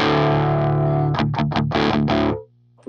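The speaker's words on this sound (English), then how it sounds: "This is how the clean channel sounds by itself." An electric guitar plays through the clean channel of a Peavey Butcher amplifier with slight breakup, a held chord and then several quick loud strummed chords that cut to near silence before one final brief note.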